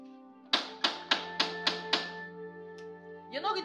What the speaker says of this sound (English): You're not going to get any sleep because I will keep banging on this door.